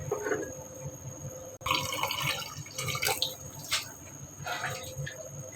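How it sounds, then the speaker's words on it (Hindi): Water is poured into beef kunna cooking in a clay pot, giving a close, splashing trickle with scattered drips and clinks over a steady background hum. "मैंने इसमें पानी थोड़ा सा ऐड किया मज़ीद"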